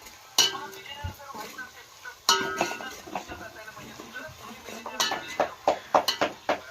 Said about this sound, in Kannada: ಮಸಾಲೆ ಖಾರ ಹಾಕಾಕತ್ತೀವಿ ನೋಡ್ರಿ